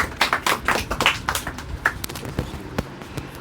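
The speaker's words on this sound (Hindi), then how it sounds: "तालियां बजा दो।" Small audience at a school award ceremony for top performers in a monthly class test, giving scattered handclaps that start brisk and thin out over a few seconds.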